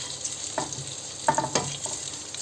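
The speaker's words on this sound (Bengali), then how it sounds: "ডিমটা একটু ভেজে নিলে একটু মানে দেখতেও সুন্দর লাগে" Eggs fry in oil in a pan with a steady, close sizzle. A few light clinks and stirring scrapes break in partway through.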